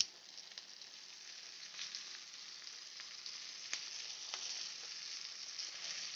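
Onions and curry leaves fry in hot oil for Kerala sambar, giving a steady, faint, close sizzle with occasional crackles and pops and no voices.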